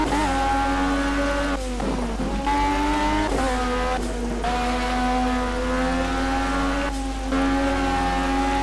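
In the Project Cars video game, an LMP1 racing car engine roars steadily at high revs while tyres squeal and skid intermittently on a wet track, with no talking.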